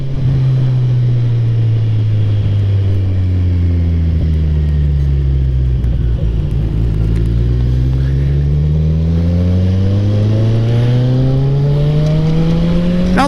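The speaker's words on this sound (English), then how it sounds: "I am on a Z1000. Extremely powerful. Going so fast." A Kawasaki Z1000 motorcycle ridden fast on a freeway, its engine droning loud and close with repeated rising pitch sweeps through gear changes, steady wind rush underneath throughout.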